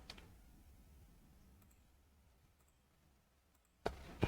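A computer mouse clicks twice in quick succession near the end while working in a Google spreadsheet. Before that there is a long stretch of near silence with only a faint background hiss.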